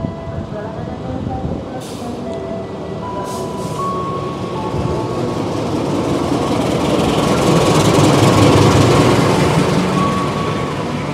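A Lodaya passenger train pulls into Kutoarjo Station, a steady rumble of rolling wagons building louder toward the end, with brief tonal station chimes early on and voices in the background.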